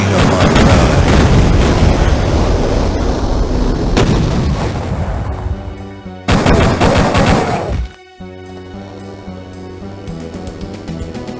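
Loud, continuous video game gunfire with heavy booming shots and explosions from an alien-fighting first-person shooter, dense for about six seconds, cutting out briefly, resuming, then dropping to a quieter musical bed.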